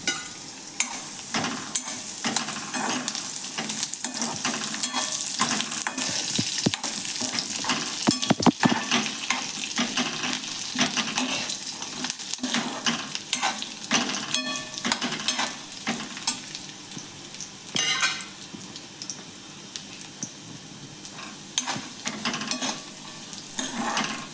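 Curry leaves fry in hot oil for cornflakes chivda, giving a close crackling sizzle with frequent stirring and scraping in the pan, continuous and fairly loud with no talking.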